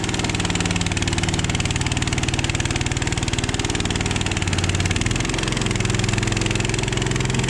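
A concrete power trowel's small motor runs steadily and loudly at close range while finishing a freshly poured basement floor, its pulsing drone holding even before dipping slightly in pitch near the end.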